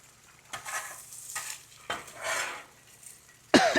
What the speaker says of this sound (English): So we're going to fry 2 eggs.